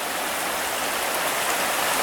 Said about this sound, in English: You can see we have some fast water running through here